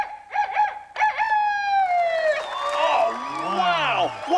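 A cow imitates a rooster's crow, a voice stretching into a long wavering crow with rising and falling pitch, preceded by two short bursts of vocal sound, all close and loud.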